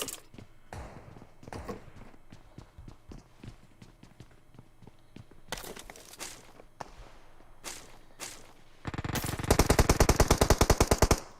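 PUBG battle royale gunfire: scattered single shots and short bursts, then a loud sustained rapid automatic burst near the end, with footstep-like clatter between them.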